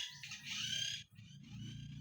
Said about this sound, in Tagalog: Pasaway ang ibon dito.